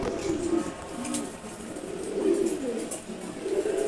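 Male racing pigeons kept apart from the hens in a loft coo repeatedly in low, rolling phrases, close and continuous over a faint background hiss.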